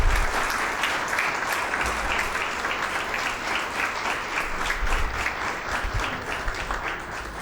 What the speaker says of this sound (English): let us have all the best claps for parents and gurus.